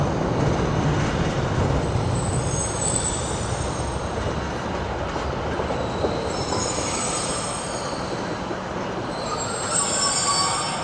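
A battered old Class 156 diesel passenger train rumbles steadily along the rails at close range, with faint wheel squeal rising in the higher tones throughout.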